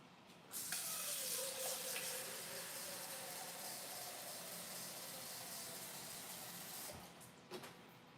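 Water runs steadily from a kitchen tap into a sink for several seconds, a broad continuous hiss that starts abruptly, holds level, then cuts off near the end with a couple of small knocks.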